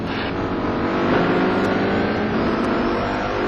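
Touring car engines racing in the rFactor video game at Snetterton, a loud, continuous high-revving roar that sustains without a break.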